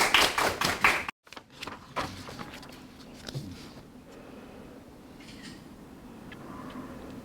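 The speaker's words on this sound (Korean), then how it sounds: "다시 한번 큰 박수를 부탁드리겠습니다." A short burst of clapping from a small group at a university awards ceremony ends abruptly, followed by scattered taps and faint room noise.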